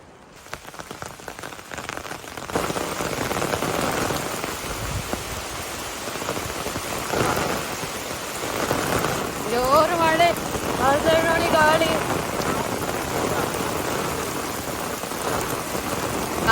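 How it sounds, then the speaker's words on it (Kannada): Heavy rain pours down in a dense, continuous hiss that swells after the first couple of seconds and holds steady, with a few voices briefly audible beneath the downpour. "ಎಷ್ಟು ಜೋರು ಮಳೆ"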